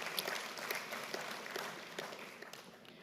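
Faint, distant applause from an audience at a university's tenth-anniversary celebration, a steady patter of clapping with no voices on top.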